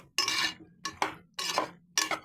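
Macaroni pasta is stirred in a pan, four distinct scraping strokes of a utensil against the metal, each a bright rasping sweep separated by short pauses, close and clear with no talking.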